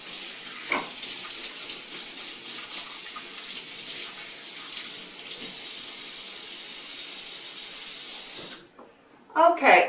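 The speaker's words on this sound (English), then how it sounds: "Let me wash my hands and we'll get started." A kitchen tap runs steadily while hands are washed under it, a close, continuous hiss of water with small splashes, stopping near the end before a short clatter.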